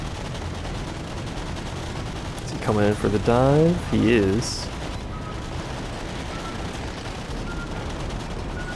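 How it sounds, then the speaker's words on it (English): Rapid anti-aircraft machine gun fire from a warship in World of Warships, a short loud burst of staccato rattling with a few quick bursts, while someone speaks over it. "Also anti-air like crazy. The machine gun fire off of this thing right now."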